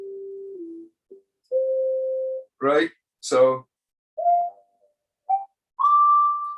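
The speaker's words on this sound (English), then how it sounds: "I just put it on this, on my Moog over here. It's like a whistle" Pure, whistle-like tones from a monophonic Moog synthesizer held at different pitches, separated by silences, with a short spoken phrase in the middle.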